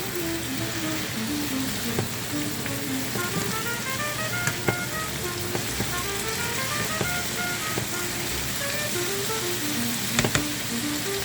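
Vegetables and already-fried soya chunks frying in a pan for fried rice, a continuous dense sizzle with occasional sharp utensil clicks, while a melodic tune plays underneath throughout.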